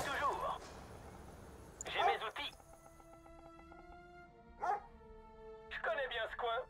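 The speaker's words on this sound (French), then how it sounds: "Les chiens, on va faire beaucoup de chiens." Dogs barking in the real-time strategy game Command & Conquer: Red Alert 3, with a few short bursts of barks spaced apart against game music and effects, fairly near.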